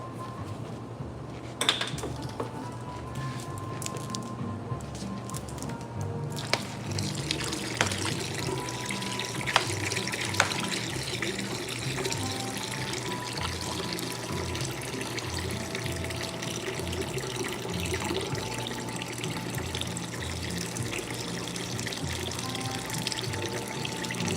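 Distilled water runs and splashes into a container while gelato is being made, a steady mid-level gush with a few clinks and knocks from handling equipment along the way.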